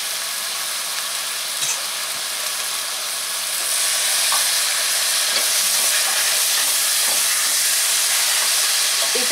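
Chopped tomato frying in a pan for vegetable soup, giving a steady bright sizzle that grows louder as it goes, with light stirring clicks.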